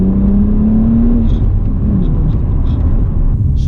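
A BMW 1M pulling hard under acceleration on a twisty road, a loud close engine drone rising in pitch over steady road rumble.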